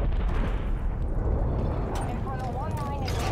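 Napalm strike in Black Ops Cold War multiplayer, a dense, continuous roaring rumble of fiery explosions filling the whole moment, loud and close, with voices over it.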